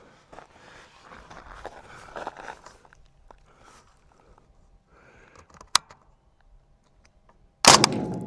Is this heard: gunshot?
yes